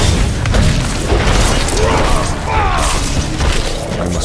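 Missile explosions in a video game, a dense, continuous roar of booms and crashes with scattered sharper bursts, loud and steady throughout.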